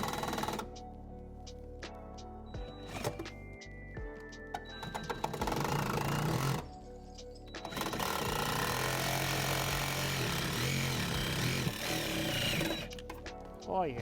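Old Sawzall reciprocating saw cutting into a vehicle heater box, buzzing in bursts with pauses between cuts, fairly close and moderately loud, with faint voices around it.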